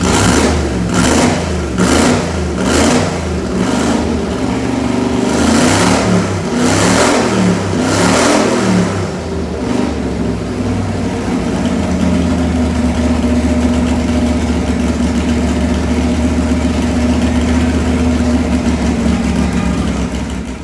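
A loud race car engine revs up and down in repeated surges, then settles into a steady, droning idle.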